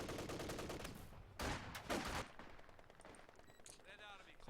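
Combat engineers fire on an enemy vehicle in Company of Heroes 2 with a rapid rattle of gunfire. A few heavier blasts follow, then quieter scattered shots and a fainter battle sound trail off beneath speech.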